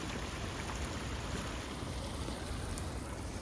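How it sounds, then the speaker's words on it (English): Water pours steadily over a small two-foot waterfall in a woodland creek, a continuous broadband rush with no pauses or voices. "Like that one is actually like a 2-foot waterfall."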